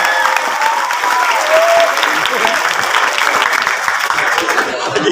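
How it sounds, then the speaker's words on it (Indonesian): A school audience applauds for its teachers at an Isra Mi'raj commemoration, with dense, steady clapping running the full length at a loud, close level while a few voices carry through the noise. "Tepuk tangan buat guru kita."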